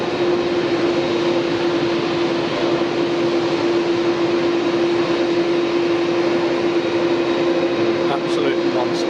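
Boeing 747 jet engines give a loud, continuous high-pitched whine with a steady roaring rush behind it, and muffled voices sit underneath.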